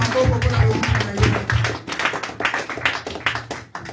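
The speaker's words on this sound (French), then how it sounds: "Est-ce que quelqu'un peut acclamer le Seigneur? Acclamez, acclamez, acclamez." A church congregation claps in quick, steady rhythm during a deliverance service, with tapping hand strikes carrying through and a vocal murmur beneath; clear cheering is not evident.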